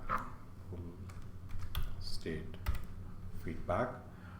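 Someone types on a computer keyboard, entering a command at a terminal: a near, irregular patter of clicks in short bursts, with a brief voice heard alongside.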